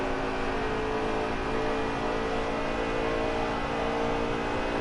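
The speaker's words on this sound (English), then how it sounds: "Got a car coming inside now." A race car at the Carnation Cup in Charlotte roars past on the track, a loud, steady engine drone holding through the whole stretch with no talk over it.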